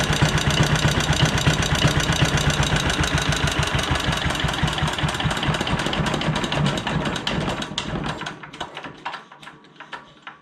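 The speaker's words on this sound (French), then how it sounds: "On a réussi à le remettre en route, le petit moteur Bernard." A small Bernard W110 stationary engine runs after being restarted, a rapid steady close putter that weakens and sputters toward the end.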